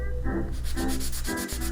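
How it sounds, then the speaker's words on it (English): Steady rhythmic sanding, a power sander scrubbing back and forth across the wood of an Art Deco furniture piece, cross grain, in even strokes, close and continuous with no voices. "sanding cross grain, preparing for glue"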